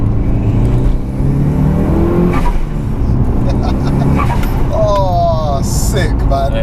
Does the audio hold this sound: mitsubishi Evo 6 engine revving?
yes